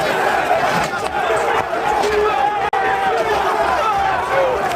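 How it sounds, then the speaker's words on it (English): A crowd of rioters overpowers police, loud, dense shouting and yelling from many people with a chaotic roar that continues without a break, briefly cut by a sharp dropout midway. "the crowd overpowers the police."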